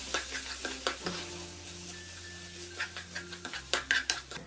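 Chopped tomato being stirred into a frying pan for paneer masala, with soft sizzling under repeated scraping and clinking strokes of a spoon against the pan, steady and close.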